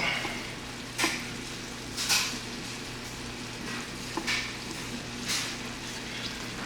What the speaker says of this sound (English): since I got the green beans cooking, you see it's sizzling